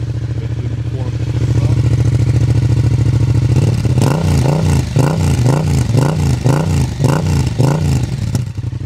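A Yamaha MT07 motorcycle engine turns over and fires, then gives a series of short, rhythmic revs close to the microphone after a steady lower rumble.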